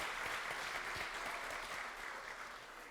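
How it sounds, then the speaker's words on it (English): A graduation celebration crowd claps for transfer students, a broad, steady round of applause heard at a distance, tapering slightly toward the end. "Can we give a round of applause to those at"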